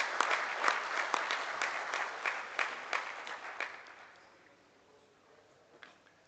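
A crowd at a collegiate livestock judging awards ceremony claps in a dense burst of applause that tapers off over several seconds and leaves only a few scattered claps at the end.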